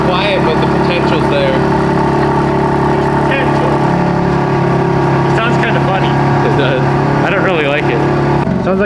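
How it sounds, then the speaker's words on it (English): Car engine idling with a misfire, a steady low rumble with an uneven, stumbling beat that runs throughout while people talk over it. "Sounds like she's got a misfire right off the bat."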